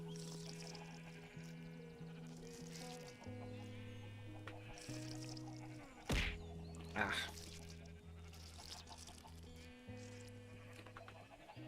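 Sheep in the video game Minecraft bleat a few times over steady looping game music, with a brief voiced exclamation in the middle.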